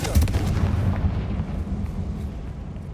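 A Confringo blasting spell goes off in Hogwarts Legacy, a loud close explosive burst with a heavy low boom right at the start that trails off into a rumbling decay.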